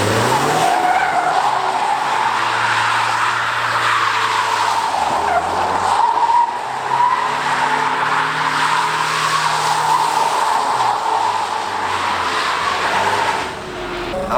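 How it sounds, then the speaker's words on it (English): Loud, continuous tire squealing from an Audi R8 V10 spinning in circles, with engine revving underneath throughout, close and sustained. "I haven't done donuts in a while."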